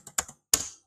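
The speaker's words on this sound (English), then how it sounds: "So I am typing root user password and repeat password." Short bursts of keys tapped on a computer keyboard while entering a MySQL root password during an Ubuntu setup, a few quick clicks, a pause, then a final louder keystroke, close and clear with no talk.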